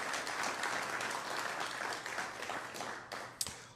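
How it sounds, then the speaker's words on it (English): Crowd applause at a business awards ceremony, a steady dense wash of many hands clapping that carries on for several seconds, with one sharp louder clap near the end. "Let's give them another round of applause."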